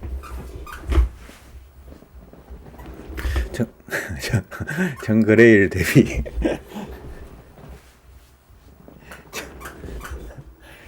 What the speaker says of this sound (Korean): 저희 집 강아지가 옆에서 삑삑 대고 있어가지고